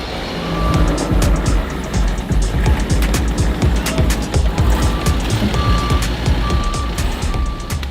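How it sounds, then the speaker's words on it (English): A race truck's engine runs loud and close at a drag racing event, a deep, steady rumble with a repeating electronic reversing beep sounding over it throughout. "Looks like they got a truck running"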